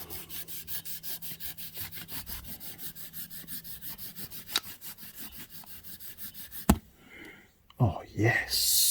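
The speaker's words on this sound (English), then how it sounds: "Bit of brake cleaner, a bit of a rag should do the trick nicely." A rag soaked in brake cleaner wipes the ignition points of a Honda CB750 motorcycle, making fast, even back-and-forth rubbing strokes close by. The rubbing stops before a few louder knocks and shuffles.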